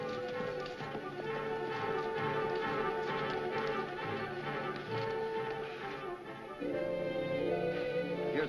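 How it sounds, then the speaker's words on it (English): Horse hooves clip-clop steadily beneath a dense orchestral film score in a 1948 Hopalong Cassidy western, the hoofbeats fairly faint and partly masked by the music. "Here's a horse for you, Miss Abbott."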